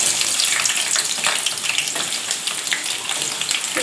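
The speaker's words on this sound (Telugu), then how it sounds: "ఈ ఆనియన్స్ సన్నగా ఇలా తరుచుకొని మంచిగా ఆయిల్లో వేయించుకోవాలి" Thinly sliced onions frying in hot oil for chicken biryani, a loud, dense, continuous sizzle with bursts of crackling, close and without talk.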